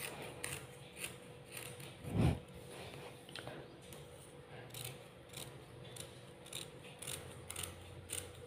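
Scissors cutting kurta fabric for a small boy's garment, with quiet snips and rustles in a calm room and one louder thump partway through.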